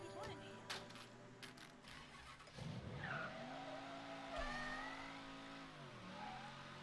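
A car drifting in the video game Mafia III, with an engine droning and tires squealing in long sweeping tones across the clip, while someone talks over it.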